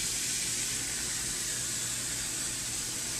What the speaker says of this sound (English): So we just run all our drains and sinks